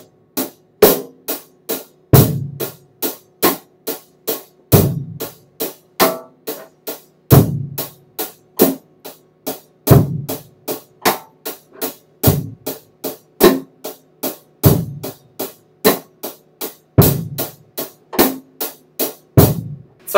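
A drum kit plays a steady beat alone, crisp hi-hat strokes ticking in an even rhythm while the kick drum and snare drum land in a regular repeating pattern, close and loud.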